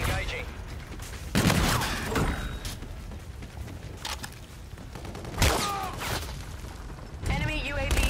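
Aircraft cannon fire rips through a video game gun run in several sharp bursts spaced a few seconds apart, each a loud rattling volley over a steady background rumble, with radio chatter in between.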